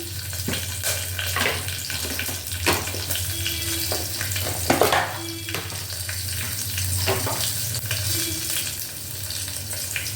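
Green chili frying in a pan while lemon rice is made: a continuous close sizzle and hiss with a few brief clinks and stirring sounds, with no voices.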